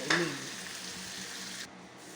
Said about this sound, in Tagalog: Sa puntong ito lalagay na po natin yung ating chili na ginisa, tinagtad.